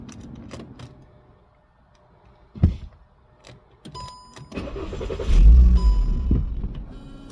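A car with a long-standing rough idle chugs, with an uneven low rumble, a sharp thump, scattered clatter and a louder rough surge toward the end, as the engine sputters and stalls.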